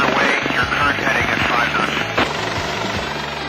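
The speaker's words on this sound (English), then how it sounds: "The 39-foot diameter of the helicopter's main rotor generates quite a downdraft." Helicopter with a 39-foot main rotor hovering above a vessel: a loud, close, rhythmic whump of rotor blades beating steadily over a roaring engine whine, with a voice speaking over it.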